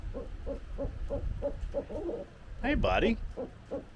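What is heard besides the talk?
barred owl hooting at an aviary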